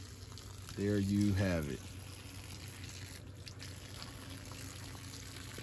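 Water runs with a steady, continuous hiss beside a greenhouse shaded by a sunshade, while someone speaks briefly near the start.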